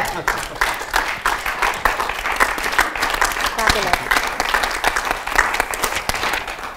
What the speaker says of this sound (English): Come on, round of applause for Christian.